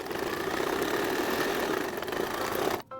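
A domestic sewing machine runs a stretch stitch at steady speed, a dense rapid mechanical whirring and clatter that stops abruptly near the end.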